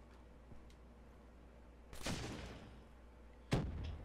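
Two bursts of Shiva gunfire in a multiplayer video game, each a sharp blast with a rumbling tail, about a second and a half apart, over low background noise.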